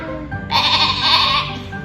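A woman imitates a sheep's bleat for a 7–8-month-old baby: one drawn-out, wavering, nasal baa of about a second, close and loud, after a short pause.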